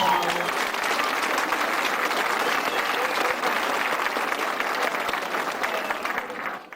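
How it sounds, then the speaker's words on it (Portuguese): A studio or hall audience at a literature and resistance event claps in a full, even round of applause that holds steady before fading toward the end. "Uma salva de palmas."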